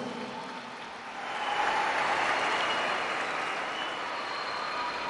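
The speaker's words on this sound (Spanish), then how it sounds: "Démosles un aplauso a las ganadoras." An audience applauds the winners at a podium ceremony at the 2010 Medellín games, a broad, steady wash of clapping that swells after the first second and holds at a distance.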